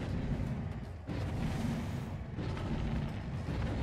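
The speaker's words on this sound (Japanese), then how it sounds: "爆発が鳴る方に来い" A steady, loud, broadband rumble from an explosion in the survival horror game Dead by Daylight. It roars continuously for about four seconds with a brief dip near one second. No voices are heard.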